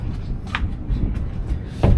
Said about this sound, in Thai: เปิดประตูเข้ามาครับ เป็นบานสวิงนะครับ